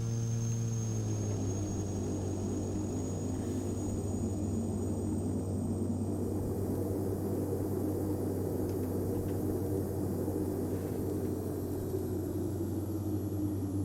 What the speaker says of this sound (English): we have propeller set to idle